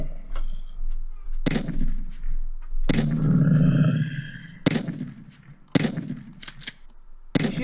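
Loud gunfire from a zombie defense game, heavy shots bursting out in several separate blasts with a long rumbling roar between them, dense and close.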